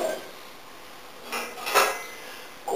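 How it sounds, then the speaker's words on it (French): A few sharp metallic clanks and scrapes of a metal saucepan being handled and set down on a stand, spaced apart in an otherwise quiet room. "On positionne la casserole sur un support adéquat"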